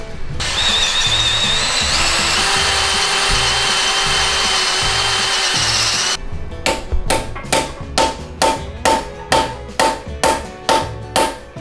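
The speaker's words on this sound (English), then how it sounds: "So now we're gonna drill it and see if we can get it out." A power drill whines steadily for several seconds while drilling out a bolt during a 2JZ-GE engine teardown, then gives way to a series of sharp, regular rattling bursts, close and loud.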